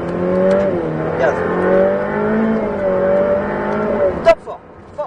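A Ferrari F8 Tributo or Lamborghini Huracán on a racetrack driving course, its engine droning loud and close as it holds and slowly varies in pitch, then cutting off with a sharp click near the end.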